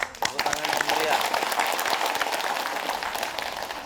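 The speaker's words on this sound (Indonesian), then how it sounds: "Tepuk tangan yang mulia." Studio audience of women's religious study groups clapping at a TVRI broadcast, brisk, close applause that stays fairly steady before easing slightly, with voices mixed in.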